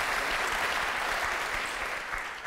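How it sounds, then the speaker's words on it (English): Brief burst of audience applause in a concert hall during a musical performance, a dense wash of hand claps, steady and fairly loud for the whole moment. "Applause for the international school for delivering this great young man"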